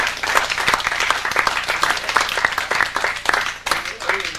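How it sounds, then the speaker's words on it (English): A classroom audience claps together in a sustained burst of dense applause, lively and close throughout, with a brief dip before it carries on. "that deserves a little applause."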